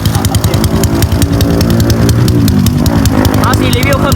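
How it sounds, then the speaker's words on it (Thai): A Honda Wave 110i motorcycle with an aftermarket exhaust revs at half throttle, its loud, close engine drone rising and holding steady while a person talks over it. "เอาสิรีวิวครึ่งรอบกันเนาะเสียงครึ่งรอบ"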